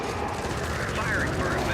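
Dense gunfire rattles in a shooter game, a continuous loud burst of rapid shots and explosions with a voice speaking over the barrage.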